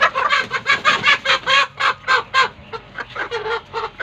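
Chickens clucking loudly and close by while being caught by hand, a steady rhythmic series of about a dozen squawking pulses with no talk over them.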